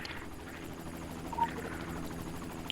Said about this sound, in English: one of the black helicopters going across